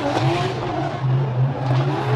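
Formula Drift cars drift through a course at Long Beach in 2015, engines droning loudly at close range with tire noise and a sharp burst at the end.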